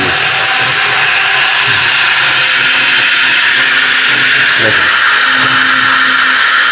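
A Miyako 3-in-1 food processor grinds cumin, a loud, steady motor whine running without a break throughout, with slight shifts in pitch as the load changes.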